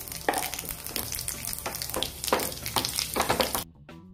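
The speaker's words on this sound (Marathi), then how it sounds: "तेल छान तापलेलं आहे। मोहरी घालूया 1 चमचाभर, 1/2 चमचा जिरे," Mustard seeds, cumin and asafoetida sizzle loudly in hot oil, with dense crackling and repeated popping bursts before an abrupt cutoff near the end.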